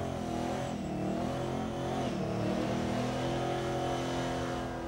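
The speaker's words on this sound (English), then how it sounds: "an angry, angry engine doing a big, smoky burnout" A car engine revs hard and steadily during a smoky burnout competition at Summernats, a loud, rough, continuous roar with rising and falling pitch, close by, with no talking.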